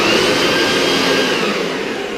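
A handheld blower roars steadily at close range, blasting ice off a frozen camera cover in a garage after a Louisiana snowstorm, with a constant whooshing hiss and no voices.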